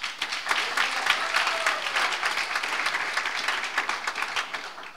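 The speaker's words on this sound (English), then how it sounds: "Give a round of applause." An audience claps steadily at a public indictment event, a dense sustained wash of many hands that stays fairly loud and even throughout with no talking over it.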